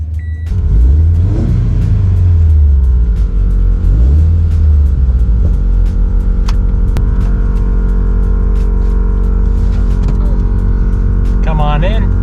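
A Scion FRS sports car drives along with a steady engine hum and rumble, its pitch rising and falling through a couple of revs, while voices talk inside the cabin.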